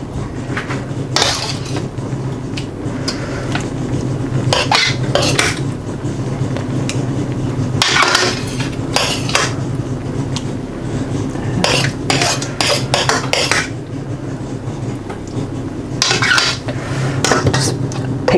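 Spoon stirring and scraping leftover biryani masala over potatoes in a metal pot, with irregular clinks and scrapes of cutlery against the pot, close and moderately loud.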